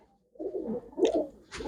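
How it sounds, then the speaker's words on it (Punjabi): A deep red, jaggery-coloured pigeon gives a short, close coo in two soft bursts after a moment of silence, with no voices. "ਜਿਹਨੂੰ ਲੋਕ ਗੁੜ ਦਾ ਕਬੂਤਰ ਬੋਲਦੇ ਆ ਉਹ ਆ ਬਾਈ"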